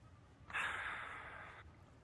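A creature sniffs about as a roleplay sound effect, one breathy snort-like burst of about a second, moderately loud against a quiet background.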